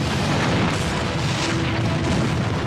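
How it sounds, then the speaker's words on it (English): A chemical tank explodes at a factory and blows out a wall, a sustained loud thunderous roar with rumbling depth that stays at steady force for the whole stretch, with no voices. "The first explosion blows out a wall."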